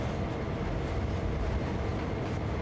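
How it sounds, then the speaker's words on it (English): A freight locomotive in Train Sim World 2 speeds up on the Sand Patch Grade, giving a steady, loud broadband rumble and rolling roar that holds even throughout, with no voices over it. "Yeah, the locomotive is speeding up just slightly."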